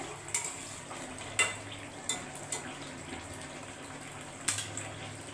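Light scraping of a metal spatula stirring pointed gourd dolma stuffed with prawns in a pan, a few soft clinks and scrapes spaced apart over a quiet background.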